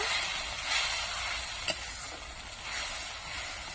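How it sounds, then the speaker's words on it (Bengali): Spice paste for a fish curry being stir-fried in a pan, giving a continuous soft sizzle with scraping stirs and one sharp clack partway through, close by and without talk. "আমরা মশলাটাকে একটু ঘুনায় নিব"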